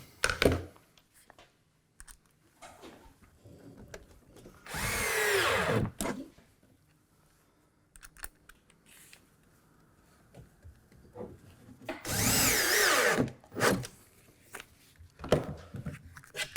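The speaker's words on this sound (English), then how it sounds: "then we'll drive a couple more screws" A power drill drives screws into a wooden router table cabinet in two loud whirring bursts of about a second each, separated by quieter clamp handling and workshop clatter.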